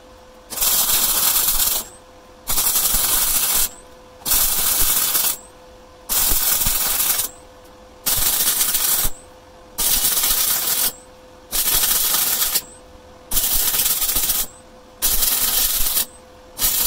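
Electric arc welding during work on a DIY wind turbine, loud crackling hissing bursts of about a second each, repeated in a regular on-off rhythm with short quiet gaps.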